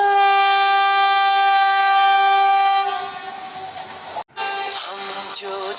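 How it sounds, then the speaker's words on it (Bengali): A train pulling into a station blares a long, loud horn for about three seconds, then fades into rumbling carriage noise and clatter as it rolls in. "ফাইনালি ট্রেন চলে এলো।"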